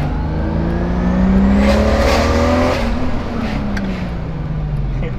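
A 400 horsepower BMW revs loudly and close, its engine climbing and falling in sustained rising tones with a throaty growl.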